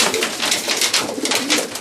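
A dark racing pigeon coos in a loft, a close, soft, throaty burbling that runs continuously through a short stretch.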